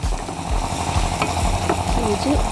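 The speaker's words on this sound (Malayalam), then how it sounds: "സവാള കുറച്ചൊരു മൂപ്പായി കഴിയുമ്പോഴത്തേക്ക് നമ്മൾ ഇഞ്ചി അതിൻ്റെ അകത്തോട്ടിടുന്നു" Sliced onion and ginger fry in hot oil in a pan for an egg cutlet, a close, loud continuous sizzle with occasional stirring scrapes, with no voices.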